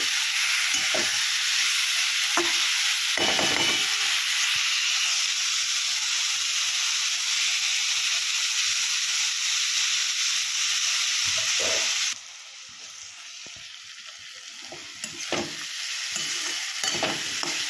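Broccoli masala frying in hot oil on a gas stove over medium-high flame, a steady loud sizzle with intermittent scraping stirs, dropping to a quieter sizzle toward the end.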